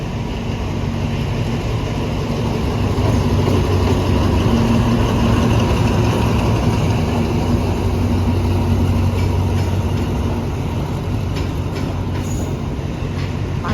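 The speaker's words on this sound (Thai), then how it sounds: "ขบวนรถโดยสารพิ ชานเมืองนะครับขบวนที่ 368 จากชุมทางาะเชิงเซาเข้าสู่สถานีกรุงเทพหัวลำโพงนะครับ" An SRT suburban passenger train, number 368, rolls into Bangkok Hua Lamphong station with a loud, continuous rumble of wheels and engine, punctuated near the end by faint squeals.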